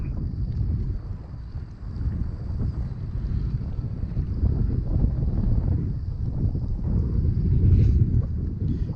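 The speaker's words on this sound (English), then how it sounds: "I'm fishing in some heavy wind" Heavy wind buffets the microphone beside a canal during spring crappie and bluegill fishing, a continuous low rumbling roar that swells and gusts for the whole stretch, with no voices.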